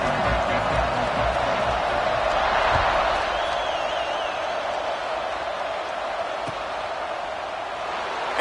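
A dense, steady crowd roar fills a stadium at an American football game as the teams line up for a kickoff, holding at an even level throughout without clear peaks.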